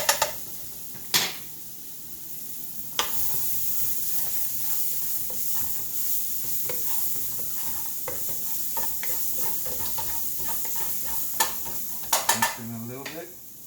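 Diced garlic fries in a pan for chicken cacciatore, a steady close sizzle punctuated by spoon scrapes and clicks against the pan. A louder clatter of cookware comes near the end.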